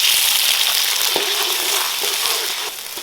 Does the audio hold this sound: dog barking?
no